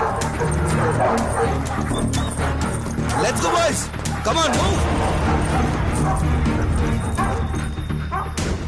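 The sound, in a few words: dogs barking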